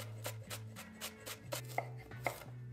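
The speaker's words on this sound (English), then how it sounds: "I like to finely chop my onions, and then I start finely chopping my tomato." A knife finely chopping vegetables for cucumber salsa, quick irregular taps on a cutting board, close and fairly quiet, with a low steady hum underneath and no talk.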